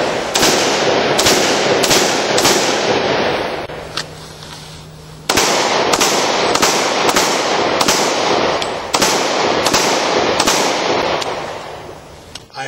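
Rapid strings of loud, sharp gunshots fired outdoors in quick bursts at a shooting audition, with one brief pause before the shots resume in uneven clusters, close and echoing, with no voices.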